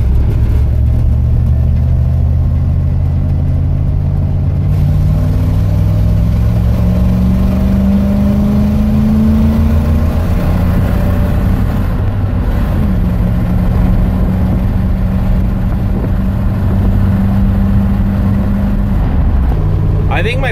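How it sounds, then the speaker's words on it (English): Car fitted with a Holley carburetor pulling hard in third gear, its engine note climbing steadily and loud throughout, with a brief dip mid-way before rising again. "All right, so this is gonna be a third gear pull."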